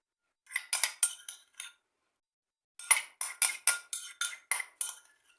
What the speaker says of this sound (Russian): Все хорошо перемешиваем